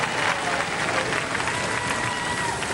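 Studio audience applauding on the Robot Wars robot combat show, with dense, steady clapping filling the room and some crowd noise and voices mixed in.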